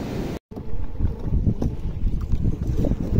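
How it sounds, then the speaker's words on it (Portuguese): A small outboard motor drives a fishing boat out toward open sea, a steady low rumble mixed with wind buffeting the microphone after a brief dropout at the start. "Aí o motorzinho."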